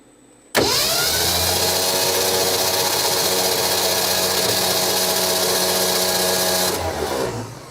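A 1967 Ford F-100 engine that has sat for over 30 years is cranked over by the starter, a loud steady droning whir held for about six seconds before it stops, with no voices.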